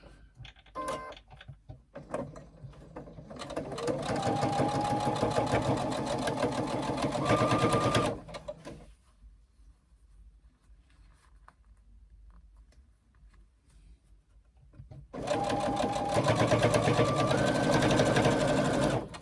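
A sewing machine stitches a quarter-inch side seam in two loud, close runs of rapid needle chatter, each several seconds long, separated by a quiet stretch of faint handling sounds.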